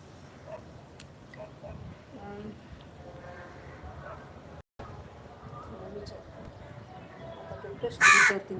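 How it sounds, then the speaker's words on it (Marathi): Crow caws ring out near the end, a short burst of harsh calls over a steady murmur of background noise. "कावळा आलाय काय वरती"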